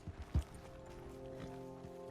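Horse hooves clip-clopping in Red Dead Redemption 2: a few faint, soft hoofbeats, one sharper thud, over a quiet steady background hum.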